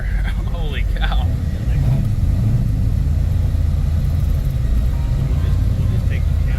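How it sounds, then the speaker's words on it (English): A 1967 Chevrolet Malibu Super Sport clone idles with a deep, steady rumble throughout, while people talk over it briefly near the start. "Sound of that idle is amazing on this car."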